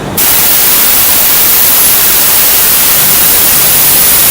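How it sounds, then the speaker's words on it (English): Compressed air blasting out as a truck's secondary air tank is drained, a loud, steady, broad hiss that starts abruptly and holds without a break. "we're going to pull this and we're going to drain this secondary tank"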